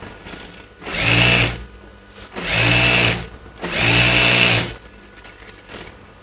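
Sewing machine stitching churidar pants, running in three steady bursts of about a second and a half each with short quiet pauses between, close and loud with no talking.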